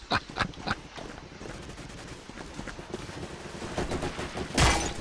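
Rapid bursts of M2 carbine fire and other gunfire crack in Day of Defeat: Source, dense and irregular volleys running throughout, with a sharper loud burst near the end.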